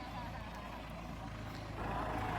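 A Massey Ferguson MF4708 tractor turbo engine drones low and steady, swelling a little louder near the end as the engine works harder.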